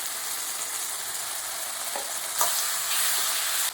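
Tomatoes with turmeric frying in a pan, a steady loud sizzle close up with occasional scrapes of a spatula as they are stirred, no one talking.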